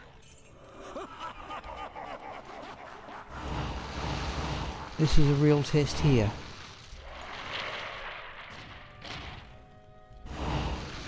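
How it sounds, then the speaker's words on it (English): Corpse Explosion from the game Diablo II goes off in a burst of heavy thuds and crashing blasts with a short ringing tonal flare, set among in-game effects while someone talks over the top. "this is going to be a test of the radius of corpse explosion"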